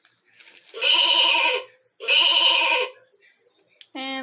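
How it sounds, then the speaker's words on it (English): Recorded sheep bleating from a toy piano floor mat: two bright bleats of about a second each, with a further sound starting right at the end. "Sheep."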